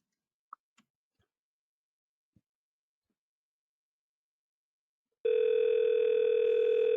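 A telephone gives a few faint isolated clicks, then a loud steady dial tone starts abruptly and holds without a break.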